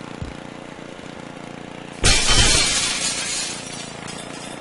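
Loud glass shattering in the Happy Wheels video game, a sudden crash that erupts out of a low engine-like drone and fades into a long scattering, tinkling tail.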